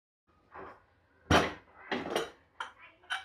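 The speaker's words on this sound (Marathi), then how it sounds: "तोपर्यंत आपण कांदा, टोमॅटो, कोथिंबीर बारीक चिरून घेऊया." A knife finely chopping onion, tomato and coriander on a board at home: a handful of sharp, uneven knocks and clacks, close and fairly loud, with no talking.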